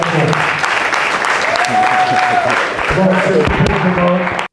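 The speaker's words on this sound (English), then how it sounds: "Everybody clap it up." A crowd applauds loudly and steadily at a basketball senior night, with cheering voices mixed into the clapping as the noise cuts off abruptly at the end.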